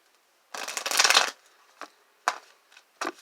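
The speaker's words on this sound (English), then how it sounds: "I'm going to give one shuffle" Tarot cards being shuffled, one sustained riffle of flapping cards up close followed by a few short taps and shuffles, with silence between them.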